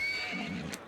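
A horse in Assassin's Creed Syndicate whinnies in a short, high-pitched neigh, with faint hoof clopping underneath, ending abruptly.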